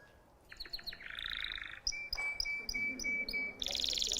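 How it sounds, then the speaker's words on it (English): Bright bird calls close by: quick repeated chirps, a buzzy trill, then a run of clear whistled notes ending in a burst of chatter. "we learn to listen to the birds"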